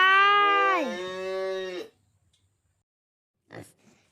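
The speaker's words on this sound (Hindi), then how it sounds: "Cow means guy." A cow gives one long, loud, low moo that bends downward partway and fades after about two seconds, followed by silence and a brief faint rustle.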